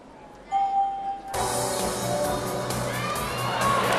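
A packed arena crowd at the 2019 Universiade women's gymnastics all-around erupts after a brief quiet start with a tone, then roars and cheers loudly and continuously, with shouts and whoops rising from the mass of noise.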